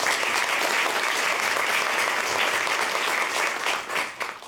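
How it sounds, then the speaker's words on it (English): A room full of people at a Georgia Writers Hall of Fame panel discussion applauds steadily, a thick wash of clapping that holds level and then thins out and fades at the end. "how about another round of applause for these three folks?"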